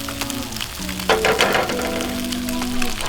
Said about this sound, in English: We're gonna crack our eggs in there.